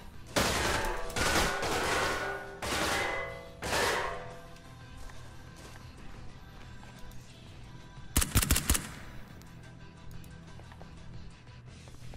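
Gunfire in the tactical shooter Ground Branch, with several loud, close bursts in the first four seconds, a quieter gap, then a sharp rapid cluster of shots near the end.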